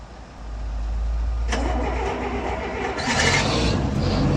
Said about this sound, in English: Listen to that where we skid down the ramps.